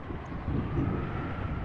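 Strong, steady wind blowing with a low rumbling roar as an approaching typhoon nears in the Umineko no Naku Koro ni video game, continuous and fairly loud throughout.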